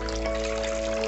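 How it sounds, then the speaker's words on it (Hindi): Water is poured into thick chilla batter, giving a brief, steady close-up trickle with no talking. "तो हल्का से में भी पानी डाल देबो"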